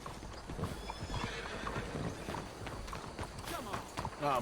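A horse in Red Dead Redemption II whinnies and its hooves clip-clop as it trots up close, with a voice talking over the sounds.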